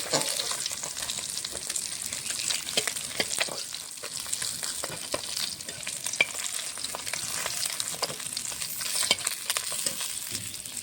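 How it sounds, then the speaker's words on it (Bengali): Bata fish fries in hot oil with a steady, bright sizzle and scattered crackles and pops throughout, no voices. "বাকি মাছগুলো এইভাবে ভেজে নেব।"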